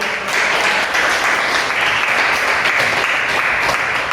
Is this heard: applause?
yes